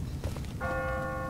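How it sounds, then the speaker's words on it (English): Church bells ring in a city street within The Walking Dead video game, a sustained metallic tolling that rises after soft footsteps and murmuring, holding steady and clear to the end. "The church bells are ringing."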